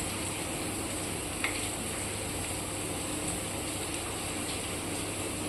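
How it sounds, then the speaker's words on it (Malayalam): Fresh prawns added to sautéed onions in a pan on a gas stove: a soft, steady sizzle with faint stirring clicks, fairly quiet and uniform with no talk. "അപ്പം നമുക്ക് ഈ ചെമ്മീൻ ഇതിനകത്തോട്ടൊന്ന് എടുത്ത്"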